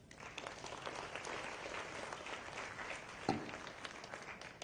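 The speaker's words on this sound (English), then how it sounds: "Let's give Professor Dr. Azizuddin an applause." An auditorium audience at a university lecture applauds steadily in a soft, even patter of many hands, fairly distant and faint, with no voices above it.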